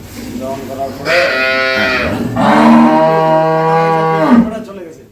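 A dairy cow at a farm in Sylhet moos twice, long and loud, close by, the second call stretching for about two seconds.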